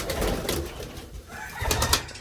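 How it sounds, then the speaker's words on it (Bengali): Pet pigeons kept at home coo in a soft, continuous murmur for a couple of seconds, fairly close, with some background noise and no talking. "আর আমাদের পায়রাগুলো আছে এইখানে।"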